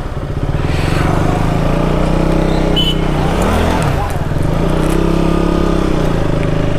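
A motorbike climbs a hill road near Parasnath temple in Jharkhand, its engine droning steadily up close with shifting revs while people talk over it.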